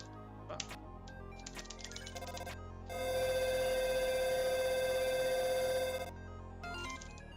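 A shrill, sustained electronic phone ring in the video game Undertale lasts about three seconds, loud and steady. Before and after it come scattered short chiming blips and clicks.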